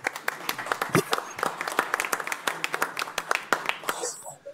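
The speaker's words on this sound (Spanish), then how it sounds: "Un aplauso para él," A seminar audience claps for a speaker, scattered, uneven hand claps that start up and then taper off, with faint voices murmuring in the background.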